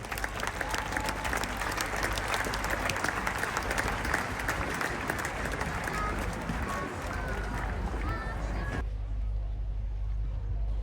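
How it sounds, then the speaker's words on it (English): An audience at the Badminton horse trials applauds before the horse parade, a loud, continuous roar of crowd clapping with cheering mixed in that cuts off abruptly near the end. "please give them a very big round of applause"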